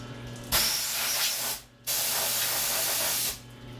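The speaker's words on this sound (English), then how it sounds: "So if we get our handy dandy airline, try and do this one-handed." A compressed air line blasts a machined part in a machine shop after rigid tapping on a Fadal CNC mill, giving two loud, steady hissing bursts of about a second each, with a short break between them and no talk.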